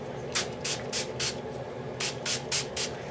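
Eight short hissing sprays of Dylusions ink from a spray bottle into a box, in two quick groups of four separated by a brief pause, close and fairly quiet.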